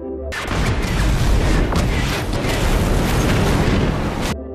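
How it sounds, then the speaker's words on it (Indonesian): A car bomb explosion in a film, a sustained loud roaring blast with deep rumble that holds for about four seconds before cutting off. "Ternyata tempat itu telah dipasangi bom, sehingga mobil mereka terkena ledakan."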